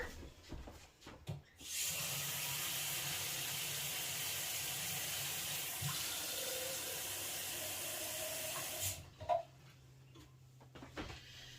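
Water pouring steadily from a tap into a pot for split pea soup, a soft continuous splashing rush lasting several seconds, with small clicks and handling noises before and after.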